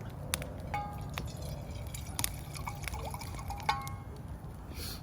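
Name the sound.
Buffalo Trace bourbon poured into a Yeti cup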